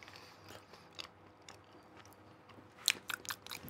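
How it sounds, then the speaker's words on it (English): Someone chews cheese close to the mic, with a few crisp biting and munching crunches clustered near the end over a quiet background. "just like munching on cheese here"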